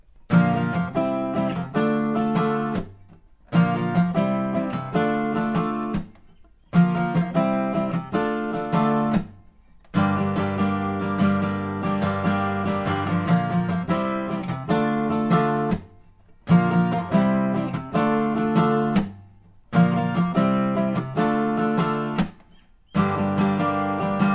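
Acoustic guitar strumming the chorus chord progression of a song, each chord rung out in rhythmic down-up strokes, with short pauses between phrases; no voices.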